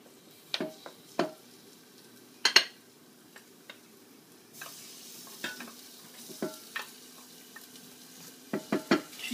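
Garlic sizzling in a frying pan, a soft steady hiss under scattered sharp clicks and scrapes of a utensil stirring against the pan.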